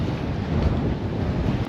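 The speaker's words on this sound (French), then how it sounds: "le vent s'engouffre comme ça" Strong wind roars over a sailboat anchored behind a coral reef near Raiatea, a steady close buffeting rush with no voices.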